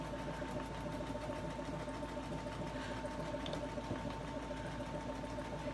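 Sewing machine running continuously while stitching decorative stitches on a quilted table runner, a steady mechanical hum and rapid needle patter at low, even volume.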